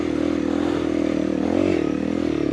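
A small dirt bike engine labours in a steady loud drone with rising and falling revs while climbing a muddy trail, with no voices.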